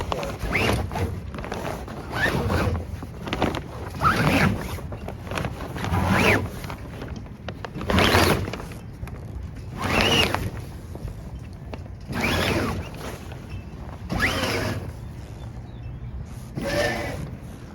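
A sail's bolt rope is hauled up the foil track of a sailboat's jib furler, making rhythmic scraping, zipper-like bursts about every two seconds, with wind and light handling noise between pulls.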